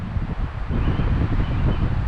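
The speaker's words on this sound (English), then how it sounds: "looks like it's going to be a windy one. It is blowing, very gusty out here." Strong wind buffets the microphone in rough, rumbling gusts outdoors in Wales, loud and low with a constant roar and no voices.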